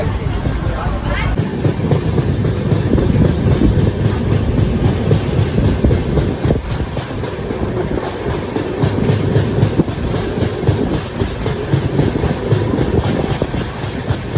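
A passenger train rolls along the rails on a long journey from Rajkot to Haridwar, with a steady loud rumble and rhythmic clickety-clack throughout, with faint chatter of passengers in the background.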